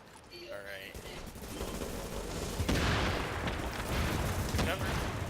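Dense, continuous gunfire rattles through a cover-based shooter game, a loud mix of rapid shots and booms building after the first second and staying steady throughout.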